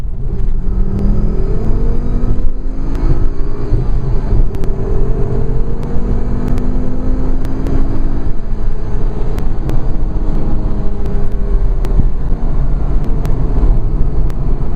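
An IPD-tuned Volvo with a 4T4 turbo engine pulls hard through second and third gear on the road, a steady loud rumbling drone with rising engine pitch sweeps across each gear.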